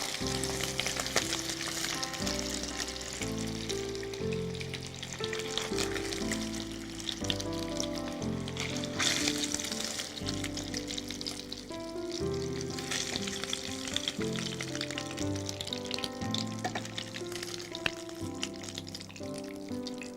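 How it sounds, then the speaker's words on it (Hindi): Fish frying in a pan while preparing spicy fish, a steady loud sizzle lasting throughout over background music, with no talking. "फिश फ्राई हो गई।"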